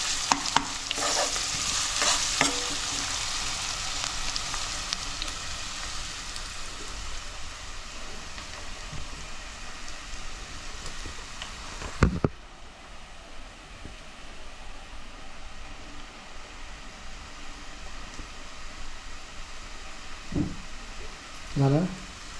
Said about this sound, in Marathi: कांदा किती वाजता शिजवायचा? थोडासा शिजवून घ्यावा.